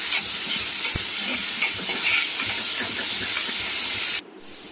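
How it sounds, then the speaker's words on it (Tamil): Onions sautéing with salt in a pan for a tomato kuzhambu give off a steady close hiss and sizzle with light stirring scrapes, ending abruptly near the close. "உப்பு போட்டு வதக்கி விட்டிங்கன்னா வெங்காயம் கொஞ்சம் சீக்கிரமாக வதங்கிடும்"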